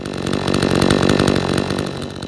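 Chinese 52cc clone chainsaw cutting through a tree stump, engine running loud and steady under load with a continuous buzzing roar close to the microphone.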